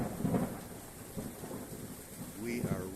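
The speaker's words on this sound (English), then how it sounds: "there is a lot of lightning and pretty heavy rain coming in here" August thunderstorm with lightning and heavy rain: low, soft rolls of distant thunder over a steady hiss of falling rain, fairly faint overall.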